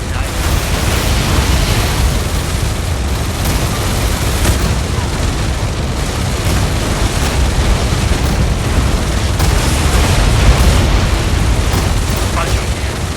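Artillery barrage in the EndWar video game: a dense, continuous roar of explosions and rumbling booms, loud and close, blending into a steady wall of noise for the whole stretch.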